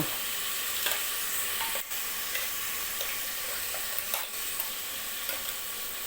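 Spice masala stirred into a vegetable dish in a cooker over a low flame: a steady, close sizzle with faint scraping and clinking of the spoon, no voices.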